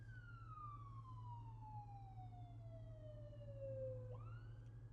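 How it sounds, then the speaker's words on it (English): An ambulance siren sweeps slowly downward in a long continuous wail, then jumps back up near the end, passing steadily over a low constant engine hum inside a BMW XM. "I don't think I've seen an ambulance go slower ever in my life."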